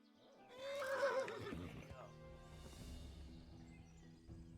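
A horse in Kingdom Come: Deliverance gives a loud, close, shrill whinny that trails off into snorting and low rumbling, with faint hoof sounds and quiet background chirps.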